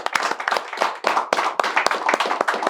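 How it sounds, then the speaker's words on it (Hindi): Audience members at a cricket discussion show clap close by, with uneven bursts of sharp individual hand claps rather than a blended roar. "तो एक बार खुद के लिए तालियां बजा दो यार"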